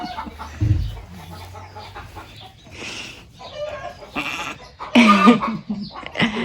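Lambs in lambing pens on a sheep farm bleat in several short, nasal calls scattered across the moment, some close and fairly loud, over a low background rumble, with no talking.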